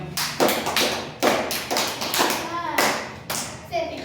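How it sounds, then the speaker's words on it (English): A classroom of students claps for a classmate in several short rounds of applause, sharp and close, with brief speech between the bursts. "It is great to join army. Claps for Nikhil."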